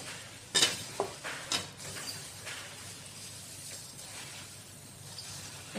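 Puffed rice is tipped into a pan of frying garlic and red chili for a Kolhapuri snack, giving a soft sizzle with a few sharp rattling crackles and spatula scrapes near the start, then quieter stirring.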